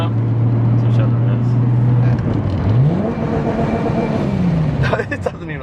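Toyota Chaser JZX100 with a 1JZ engine held at a 4,000 rpm rev limiter: a loud, steady drone, then the revs drop and climb again in bouncing sweeps, with a brief clatter at the end.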